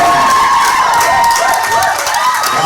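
Audience at a pharmacy formal masquerade event applauding and cheering loudly, a dense continuous wash of clapping with shouts and whistles from a crowded room.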